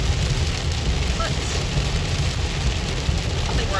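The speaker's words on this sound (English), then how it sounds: "it's just straight up raining right now" Heavy rain pours down in a thick, constant hiss with a low rumble beneath, loud and close, steady for the whole stretch with no clear talk.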